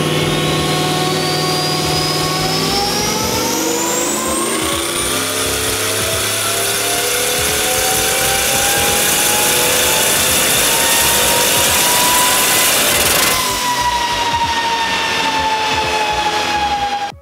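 A turbocharged 6.0 LQ4 LS V8 in a BMW E36 roars loud and close on a dyno on 93-octane pump gas, pitch climbing steadily to a 6,500 RPM redline, holding there, then dropping off abruptly near the end.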